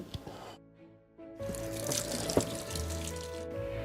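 Water runs from a tap to wet sticky fingers while making a no-bake vegan pie crust from nuts and dates; after a quiet start, a steady nearby splashing flow with a low hum continues to the end.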